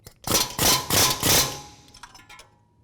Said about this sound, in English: Then you get your air tool and give it a good snug hit.